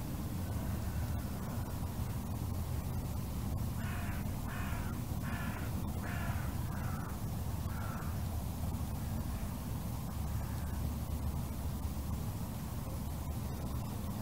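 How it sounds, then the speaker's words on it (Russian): Disturbed crows on the left bank of the Don in Rostov-on-Don caw in a series of about eight harsh calls, fairly distant, over a constant wind-like rushing noise. "Вороны еще не успокоились. Мы их потревожили."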